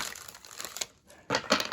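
A deck of Law of Attraction affirmation cards is shuffled by hand, giving soft, close papery riffles in two brief bursts separated by a short pause.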